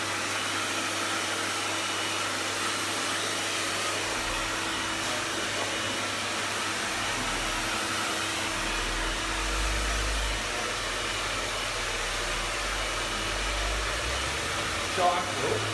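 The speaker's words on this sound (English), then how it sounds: "so I'm blow drying it that way" Hair dryer blowing steadily while hair is styled and dried at the roots in a barbershop class, a continuous close broadband whoosh with a low hum, running throughout.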